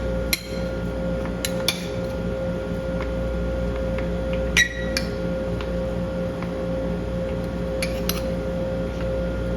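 A utensil clinks and taps against a bowl as ice cream is mixed, a handful of sharp scattered ticks over a steady mechanical hum.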